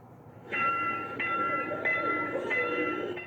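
A commuter electric train nears a railway level crossing, sounding its horn in several sustained blasts, loud and close, over the rumble of the moving train.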